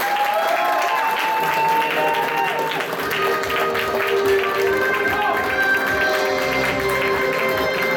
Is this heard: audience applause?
yes